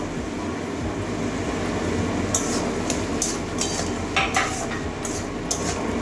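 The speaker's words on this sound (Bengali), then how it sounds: "এবারে ধুয়ে রাখা আলুগুলো দিয়ে দেবো।" Washed potatoes stir-fried in a pan with a steady frying hiss, joined by several sharp metallic clinks and scrapes of a spatula, close by with no speech.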